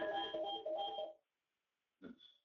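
An electronic alert rings during a trading webinar, a warbling multi-tone ringtone lasting about a second, then a brief pause before a short burst of ringing starts again; no one talks.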